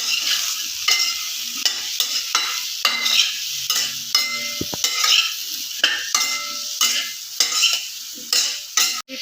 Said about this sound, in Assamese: এইখিনি মই লৰাই ল'ম।